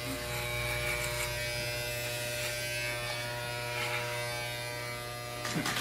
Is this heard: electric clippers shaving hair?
yes